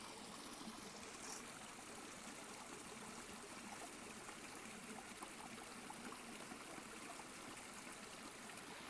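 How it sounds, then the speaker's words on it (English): A forest creek flows in a steady, faint babble and trickle that carries on evenly throughout, with no voices. "I will try to show you this beautiful creek"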